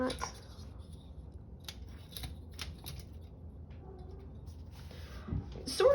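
Scissors cutting a line in paper, a few light crisp snips close by over a quiet background, with a brief soft thump near the end.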